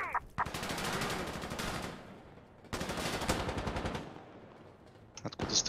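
Automatic rifle fire in the video game Insurgency: Sandstorm comes as two loud, close bursts of rapid shots, each lasting a second or two, with a brief pause between them and a few sharp single shots at the end.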